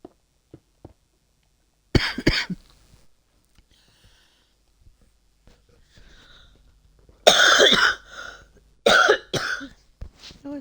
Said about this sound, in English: I don't think I got that cough.